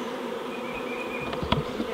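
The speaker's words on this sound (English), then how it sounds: "with this many bees flying around" A swarm of honeybees buzzes steadily in a dense, continuous drone, close and moderately loud, with no voices.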